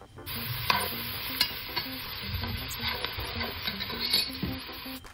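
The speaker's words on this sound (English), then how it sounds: "Some thyme, and we're going to kind of saute that for about a minute or so." Garlic and thyme sauté in oil with a steady close sizzle, and a utensil gives regular rhythmic scrapes and taps as it stirs.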